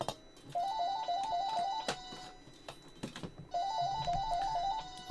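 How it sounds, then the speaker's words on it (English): A phone rings with a repeating trilling electronic tone, two ringing bursts separated by a pause, with clicks and tapping in the background. "someone's ringing me"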